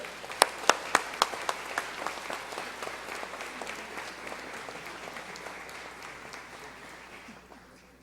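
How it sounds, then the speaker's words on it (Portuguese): Audience applause at a ceremony honouring Portugal Day, opening with a few sharp, close claps that blend into a broad, even ovation from a large crowd, slowly tapering off. "Uma salva de palmas também."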